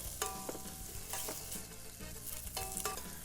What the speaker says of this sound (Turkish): Her malzemeyi bir ya da iki dakika soteliyoruz. Soğanları koydum.